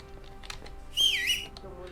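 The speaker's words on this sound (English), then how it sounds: "I hate when I do that, when I hit the whistle button instead of the crouch button." A character in Kingdom Come: Deliverance whistles for a horse, a single rising and falling whistle lasting about half a second, moderately loud over quiet game ambience.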